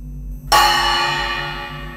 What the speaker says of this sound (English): Ring the ceremonial bell.